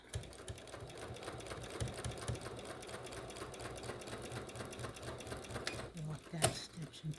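A sewing machine stitches quilt pieces for a log cabin quilt with a fast, steady mechanical rattle at close range, ending in a couple of louder clunks as it stops.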